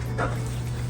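Small dog on a first visit to a dog park in Dallas gives a short whimpering yip over a low steady hum, faint and brief.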